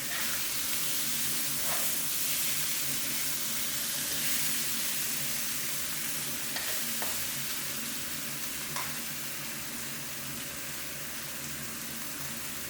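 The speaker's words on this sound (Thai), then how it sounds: "ใช้ไฟแรงนะครับ เพราะว่าเราจะเริ่มผัดปลาให้สุกแล้วนะครับ" Catfish pieces stir-frying on high heat in a pan for a spicy Thai stir-fry: a constant, dense sizzle with occasional small crackles and pops, steady and moderately close, with no talking.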